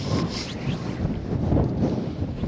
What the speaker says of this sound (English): I ain't get a chance going over my right shoulder with this wind, and it's surprising how strong it really is.